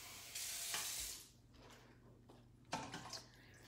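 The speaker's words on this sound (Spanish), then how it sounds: "Y creo que le voy a poner un poquito más de agua." Water pours into a pot while cooking Puerto Rican rice with pigeon peas, making a loud, steady splashing rush that stops after about a second, followed by softer clinks and a short splash.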